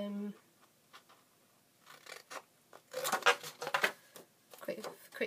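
Scissors snip off the corners of a paper pocket-letter envelope in a quick series of crisp cuts and rustles, growing busier toward the middle and close to the mic, with no talk.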